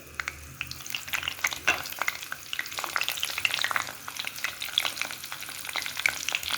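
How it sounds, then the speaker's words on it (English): Steady crackling sizzle of seasonings frying in hot oil for Jamaican fried chicken, dense popping and spitting throughout at a close, even level. "just let them sizzle and season up the oil"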